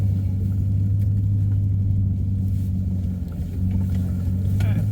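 Car driving along a test track, heard from inside as a steady, heavy low rumble of engine and road noise that holds constant throughout, with no talking.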